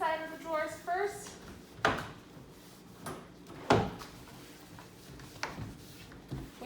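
Kitchen drawers in a Club Wyndham studio kitchen slide open and shut with several sharp wooden knocks spaced a second or two apart. A voice speaks briefly at the start over faint room noise.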